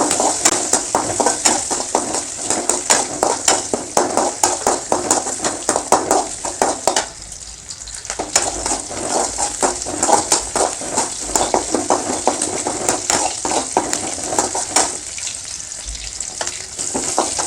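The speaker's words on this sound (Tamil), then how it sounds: "கொஞ்சம் இஞ்சி, பூண்டு நல்லா பொன்னிறமாக வதங்குற வரைக்கும் கொஞ்சம் ஃப்ரை பண்ணணும்." Ginger and garlic fry in a pan for chana masala, with a constant loud sizzle broken by frequent stirring scrapes and clinks against the pan.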